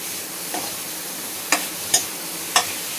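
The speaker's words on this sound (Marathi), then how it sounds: "चांगलं शिकेपर्यंत व्यवस्थित मंद आचेवर शेकून घ्यायचं" Jaggery and coconut being roasted on a low flame, with a spoon scraping and stirring the pan in a few sharp strokes over a soft, steady sizzle.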